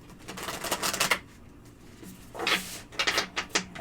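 Tarot cards are shuffled in quick riffling bursts, crisp and close, with a short pause between two rounds of flicking and no talking.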